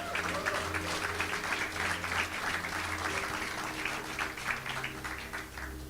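Congregation at a church service applauds together, a steady, dense patter of many hands sustained throughout with organ or keyboard tones sounding underneath.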